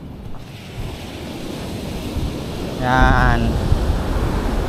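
Strong ocean surf on a beach rolls as continuous, loud wash mixed with wind noise buffeting the microphone, while someone speaks briefly midway.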